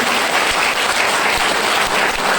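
Vigorous applause from a large crowd at an RCM business speech, loud and continuous clapping at an even level from start to finish.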